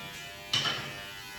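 Electric hair clippers with the blade set to zero, cutting hair during a self-cut skin fade. A close, steady buzz rises to a brief louder burst as the blade meets the hair.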